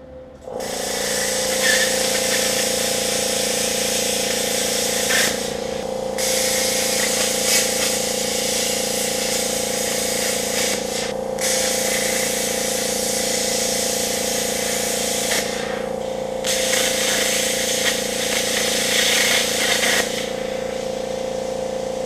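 A Thermal Dynamics AirCut 15C plasma cutter piercing 16 gauge sheet metal: a loud, continuous hissing roar with a steady hum, interrupted by a few brief pauses between bursts.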